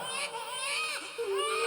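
A baby cries in a short, high, wavering wail that rises and falls, close and clear, as part of a spoken devotional bedtime story about the child Thakur ji.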